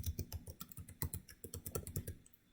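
A password is typed on a computer keyboard in a quick, uneven run of close, crisp key clicks with no voices.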